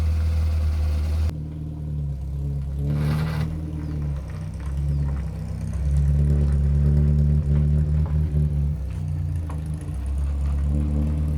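A Morris Minor engine starting and then settling into a steady, low idle, with a few blips of the throttle, moderately close and with no talking.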